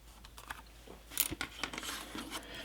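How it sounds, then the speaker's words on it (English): Scissors snip through plastic headlight lens material for a Hot Wheels model car, giving a few short, faint cutting clicks with one sharper snap near the middle. "we can use some scissors to cut that off"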